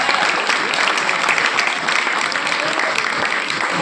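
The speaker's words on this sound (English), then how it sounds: "Huge round of applause." Dense audience applause at an awards gala in a large hall, a steady wash of many hands clapping throughout with no pause.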